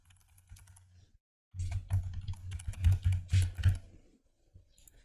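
Rapid key clicks from typing an email address on a computer keyboard, starting after a short pause and running in a dense, uneven burst for about two and a half seconds before tapering to a few faint taps.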